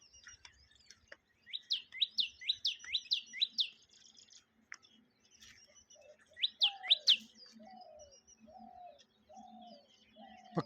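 Small baya weaver birds sing outdoors near a coriander crop, giving bursts of quick rising chirps in rapid series, then a run of lower, evenly spaced notes, fairly close against a quiet background.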